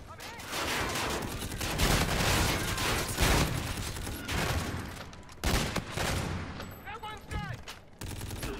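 A sniper rifle and other weapons fire in Call of Duty: Infinite Warfare multiplayer, with dense, loud bursts of gunfire throughout and a short gap near the middle.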